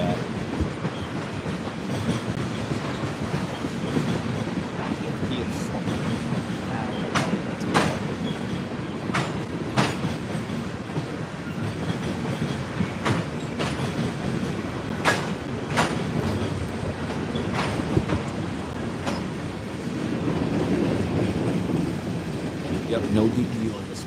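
A freight train rolls past a railroad spot in Deshler, Ohio, a continuous loud rumble with regular clickety-clack wheel beats over rail joints throughout, while people talk nearby.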